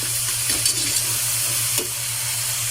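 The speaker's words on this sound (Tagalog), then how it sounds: "Tapos igisa-gisa." Crab with seasoning sautéing in a pan for a spicy crab dish in coconut milk: steady close sizzling and frying hiss, with a few stirring scrapes and a low constant hum beneath, no voice.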